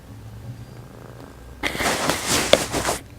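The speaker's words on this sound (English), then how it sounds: "My cat's trying to climb on me." A pet cat rubs against a microphone and purrs, a sudden close, loud rumbling burst with fabric-like rustle that starts partway through after a quiet stretch and continues to the end.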